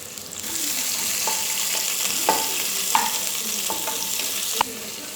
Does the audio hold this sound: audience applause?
no